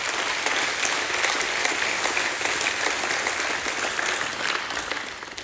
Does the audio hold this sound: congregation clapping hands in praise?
yes